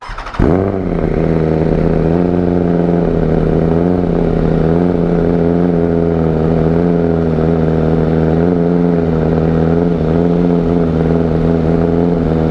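A BMW M1000RR motorcycle with an aftermarket exhaust starts cold with a sharp catch, then settles into a loud, steady idle with a faintly lumpy rhythm, running close by with no voices.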